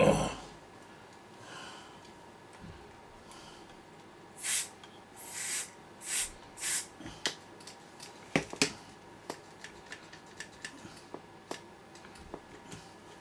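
Cleaner is sprayed from a trigger bottle in four short, evenly spaced hissing bursts, followed by a scatter of light clicks and taps in a quiet room.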